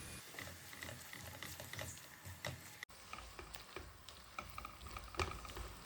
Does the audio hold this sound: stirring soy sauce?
yes